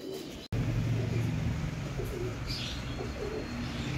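Racing pigeons coo steadily and fairly close at a pigeon release, with chirps over a constant background hum and a brief dropout near the start.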